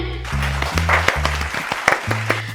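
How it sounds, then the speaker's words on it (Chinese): A few people clapping in a home during an interior design house tour, sharp separate claps in a loose rhythm over a steady low tonal hum, with no crowd roar. "拍手"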